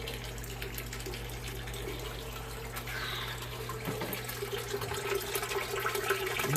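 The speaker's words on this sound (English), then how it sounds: "So what I do here is turn the tap on." A tap in a sunlit aquaponics setup is turned on, giving a steady low rush of running water that builds slightly toward the end, heard alone with no talking.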